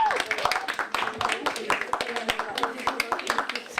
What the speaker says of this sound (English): they do merit an applause